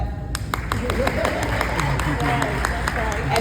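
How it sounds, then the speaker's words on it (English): An audience claps at the close of a talk on resilience, with dense, steady applause and crowd noise running through the whole moment. "You can clap."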